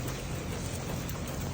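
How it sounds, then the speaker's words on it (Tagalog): Heavy rain pours steadily on an afternoon in South Korea, a dense, continuous hiss close by with no voices. "lakas yung ulan"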